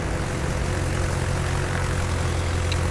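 Japanese navy propeller aircraft from the carrier Kaga drone through a naval battle game, a steady low engine hum with faint higher whines, alone and unbroken.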